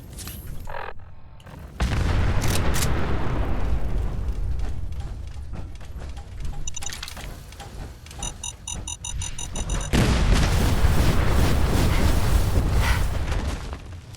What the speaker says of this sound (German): Da geht glaube ich der LKW in die Luft.